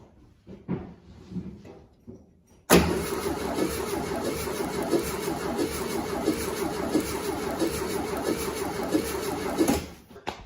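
1972 VW Westfalia engine running on struggling cylinders: a few faint taps, then a sudden crank-and-catch into a rough, uneven running with lumpy pulsing for several seconds before cutting off.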